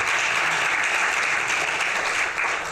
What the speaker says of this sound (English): I'm always happy when people clap for Nitzia.